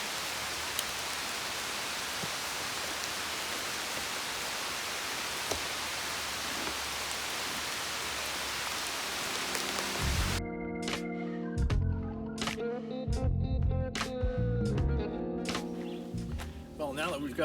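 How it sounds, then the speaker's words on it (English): Light rain drizzles at a campsite as a steady, even hiss of fine drops, and music comes in partway through. "And it is starting to drizzle right now, so priority number 1 always is when we get to the site is to get our tarp up."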